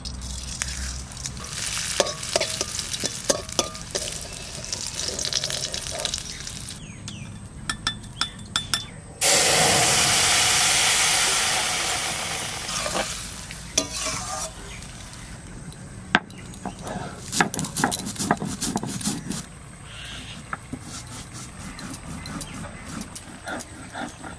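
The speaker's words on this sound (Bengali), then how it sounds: "দুটো জিরে ভেজে রাখবো।" Cumin seeds fry in a pan with steady sizzling, a burst of loud spitting hiss in the middle, and light clinks and stirring scrapes around it; no speech.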